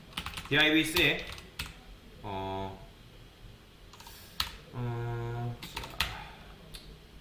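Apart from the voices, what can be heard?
typing code on a computer keyboard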